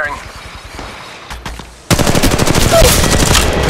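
Rapid automatic gunfire from the mobile battle royale Apex Legends Mobile: a few scattered shots at first, then a loud, dense, sustained burst of machine-gun fire that runs to the end.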